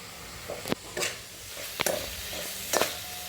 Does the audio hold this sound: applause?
no